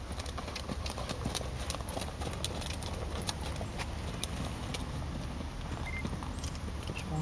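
Horse hooves clip-clop at a steady walking rhythm, each strike sharp and fairly close, over constant outdoor background noise with no clear talk.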